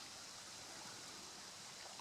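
Creek water flows steadily along an old railroad bed near a river crossing in Minnesota, a soft continuous hiss that stays faint and even throughout with no voices.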